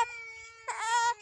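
A three-month-old baby cries close by in a short burst, a thin wavering whimper that swells into a louder wail before trailing off.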